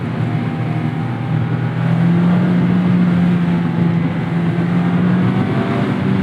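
A 2024 Mazda MX-5 Miata Club BBR drives along a canyon road, its engine a steady, loud drone from inside the cabin that swells as the throttle opens, with road and wind noise underneath; no talking.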